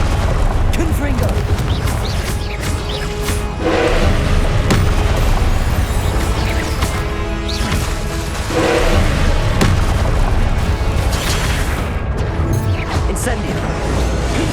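Confringo fire spell blasts in Hogwarts Legacy during a boss fight, dense rumbling booms and crashes layered with game effects and shouted voices throughout.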